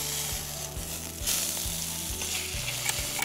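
A steak sears in a hot frying pan with a loud, steady sizzle and crackle, joined by the rhythmic scrape of stirring or shifting the meat in the pan, heard close up with no talking.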